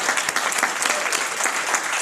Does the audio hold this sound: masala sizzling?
no